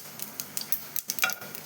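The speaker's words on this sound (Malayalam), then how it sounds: "ഇതാ കടുക് പൊട്ടിക്കൊണ്ടിരിക്കുന്നുണ്ട്." Mustard seeds splutter in hot oil in a pan for chutney, giving irregular sharp pops and crackles in quick succession, loud and close, with a faint steady sizzle underneath and no voices.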